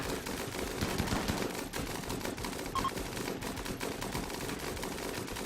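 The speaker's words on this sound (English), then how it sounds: "these gun turrets are not very accurate. But they never stop firing" Automated gun turrets in the video game Rimworld fire nonstop, a dense rapid clatter of shots that keeps going at steady loudness with no pauses.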